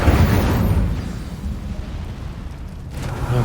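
Incendio fire spell cast in Hogwarts Legacy, a dense roaring burst of flame with a heavy low rumble that fades a little over a few seconds, then swells again near the end.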